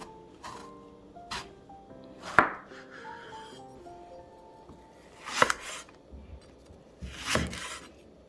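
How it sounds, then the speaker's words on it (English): A knife slicing an eggplant lengthwise on a cutting board: a few sharp, separate cuts and thuds spaced seconds apart, close by, with quiet pauses between them. "And then I cut the other side."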